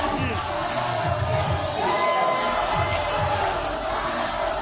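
A wrestling crowd roars with mixed cheers and boos, a loud, dense wash of voices filling the arena, with whistles and shouts rising over the steady crowd noise and a commentator talking over it.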